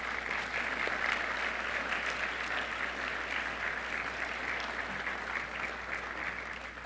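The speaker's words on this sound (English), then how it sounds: "so give yourselves a round of applause" Warm, continuous applause fills the room at a community college scholarship brunch, with many hands clapping evenly at a steady level throughout.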